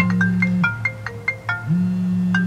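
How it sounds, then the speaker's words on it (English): A mobile phone rings with a repeating electronic tone, a run of rapid chirping beeps between longer sustained notes, clear and close in a quiet setting. "my phone's ringing"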